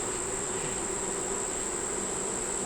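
A steady high-pitched buzz of bees at a hive carries on without a break, dense and even, with a faint low background rumble and no voices.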